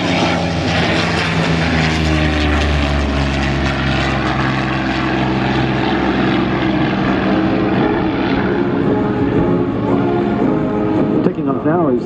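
Yak-3 World War II Soviet fighter plane taking off: a loud, continuous, droning piston-engine roar with propeller buzz, steady and close throughout, with faint talk underneath.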